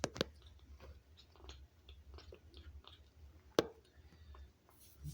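A cat chews food while eating, producing soft, quiet wet chewing and small clicks with one sharper crunch partway through, close and without talk.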